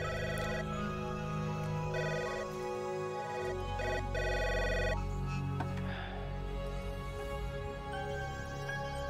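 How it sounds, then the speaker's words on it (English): An intercom ringing indoors in a steady repeating electronic tone pattern, continuing for several seconds with brief pauses, moderately loud with no talking. "That damn intercom is still ringing."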